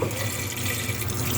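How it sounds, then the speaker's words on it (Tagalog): Water pours into a cooking pot for chicken tinola, a short, steady splashing rush close by that runs evenly for just over a second. "Lagyan natin ng tubig."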